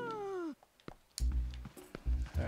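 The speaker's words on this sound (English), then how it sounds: "oh, the cat." A cat meows in The Legend of Zelda: Twilight Princess HD, one clear drawn-out falling meow followed by scattered game thumps and clatter.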